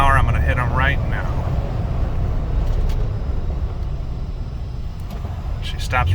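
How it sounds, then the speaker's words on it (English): A 2011 Jeep Wrangler Unlimited Sport brakes hard from 55 mph, with broad road and tire rumble easing as it slows, a few brief squeaks appearing near the start and end. "I'm actually going to test the brakes pretty heavy"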